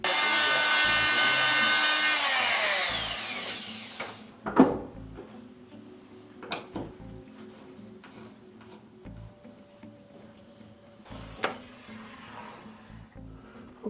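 Screws and drywall anchors are backed out of sheetrock. A power driver whines for several seconds, then scattered clicks, scrapes and knocks of hand work follow, close and without talk.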